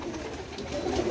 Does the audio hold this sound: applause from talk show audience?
no